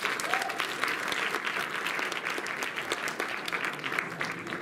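Crowd at a post-prom event in Wisconsin gives a steady round of applause, dense clapping at moderate volume holding evenly from start to finish.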